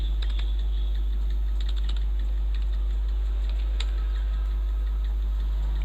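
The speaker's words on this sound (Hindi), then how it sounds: "राजू लिख देते हैं।" Someone types on a computer keyboard while entering accounting data in Tally software, with scattered light key clicks and taps over a constant low electrical hum.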